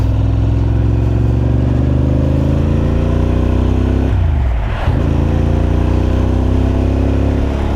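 A freshly serviced motorcycle rides along a road, its engine droning loudly and close throughout with steady revving, one brief dip in pitch partway through as it shifts before climbing again.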